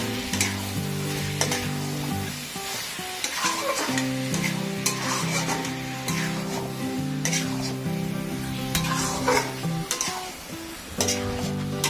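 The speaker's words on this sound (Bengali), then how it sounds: "আর একটু কষিয়ে নেব।" Spices with garam masala fry and get stirred in a pan while cooking a light Bengali-style mutton curry; a steady, close sizzle runs throughout with repeated scraping stir strokes.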